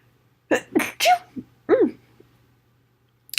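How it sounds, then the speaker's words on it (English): A single person sneezes with a couple of sharp gasping intakes before the main burst, then quiet. "I feel like I need to sneeze"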